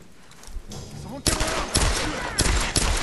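Pistol gunshots from the Tomb Raider video game ring out as a series of sharp, loud cracks with a brief spaced rhythm, following a quieter stretch of game ambience.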